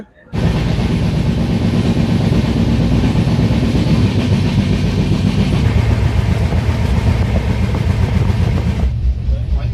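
A passenger train heading toward Mathura Junction rolls along with a loud, continuous rumble and rattle heard from on board. It swells in almost at once and holds steady to the end.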